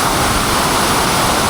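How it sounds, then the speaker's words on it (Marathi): Water pours continuously over Vave Dam waterfall in Tala, Raigad, during the monsoon, a loud, dense, unbroken rush close by with no voices. "किती छान प्रकारे पाणी पडतं."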